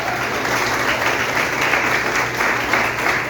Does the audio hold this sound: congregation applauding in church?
yes